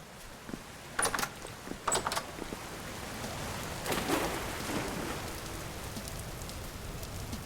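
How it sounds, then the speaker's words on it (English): Steady rain in the video game Vintage Story patters and hisses throughout, with a few sharp taps and clicks early on. "can't believe it's raining again"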